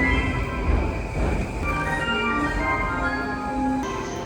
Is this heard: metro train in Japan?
yes